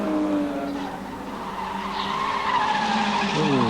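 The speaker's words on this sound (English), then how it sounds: "There's the Mazda heading up the hill." A 1988 production-car-series Mazda race car climbing the hill at Amaroo Park, its engine note loud and rising steadily with tyres skidding and squealing, a commentator talking over it.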